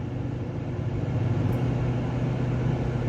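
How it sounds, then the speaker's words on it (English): A loud truck rumbles past close by, a steady low, heavy drone holding throughout the short stretch with no voices over it. "man, that was a loud truck"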